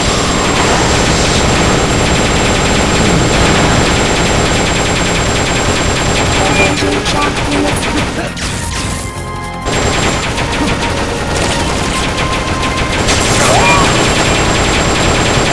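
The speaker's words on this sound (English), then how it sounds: "That's an AI weapon. The pupa. It's fast, so be careful." The Pupa AI weapon attacks in Metal Gear Solid: Peace Walker, a loud, unbroken roar of machinery and rapid gunfire that dips briefly in the middle before resuming.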